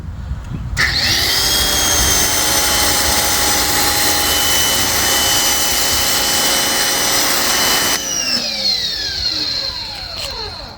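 A spray gun fitted with a Dancingboar foam cannon runs loud and close as a steady high-pitched whining hiss for about seven seconds, then the pitch sags as it shuts off and fades.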